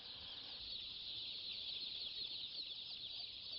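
A dense, continuous chorus of high peeping comes from many chicks at a poultry farm, thousands of birds housed together. The sound is constant and fairly soft, with no single bird standing out.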